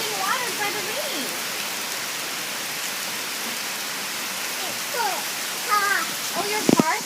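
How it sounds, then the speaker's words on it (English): Steady outdoor rain hisses evenly throughout, falling on plants and a parked car, with a voice and an adult talking over it in short bursts. "The plants are getting watered by the rain."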